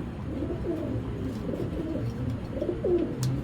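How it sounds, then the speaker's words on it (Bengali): A male Janardhan pigeon coos close by in low, rolling, throaty phrases repeated over and over, with a steady murmur of other pigeons around it. "অনেক দামি একটা কবুতর ভাই"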